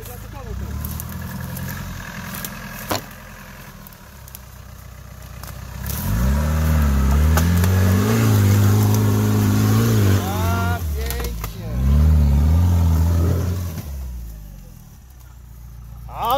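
Off-road vehicle engine at an off-road event in Tarnobrzeg, revving hard with rising and falling pitch for several seconds, loud and close, with people talking nearby before and after.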